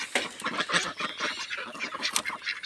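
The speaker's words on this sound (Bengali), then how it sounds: "আমার হাঁস মুরগির ঘরে হাঁস মুরগিগুলো অনেক ঠুকরি করতেছে, মারামারি করতেছে।" Ducks and chickens squabbling and pecking at each other inside their coop, a close, busy run of honking quacks and squawks in irregular bursts, with no voices over them.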